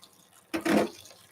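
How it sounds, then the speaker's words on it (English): A short, soft splash of water is poured over berries in a bowl for rinsing after a vinegar soak, a quick burst of under half a second in a quiet kitchen. "We add extra water."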